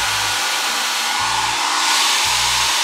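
A Yumi hair dryer runs on its cool setting while drying short bob-cut hair, a steady close rushing whoosh throughout, with faint low thumps of background music underneath.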